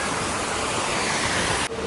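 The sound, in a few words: small hotel waterfall into koi carp pond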